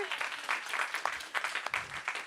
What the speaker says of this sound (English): Can we get a big round of applause for our lovely panelists and our moderator?